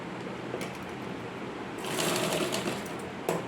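Sewing machine stitching folded blouse fabric for a back neck design: a brief whir near the start, then a louder continuous run of close, rapid stitching before a short final burst.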